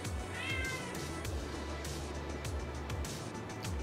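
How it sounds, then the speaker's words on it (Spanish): A cat meows a few times, close and clear, with a rising, wavering cry over steady low background hum; no talking. "Es mi gato"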